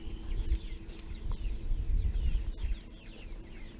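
Young black sex link and barred rock chicks clucking and cheeping softly in a farm setting, scattered high chirps over a low rumbling background of handling and movement, no voices.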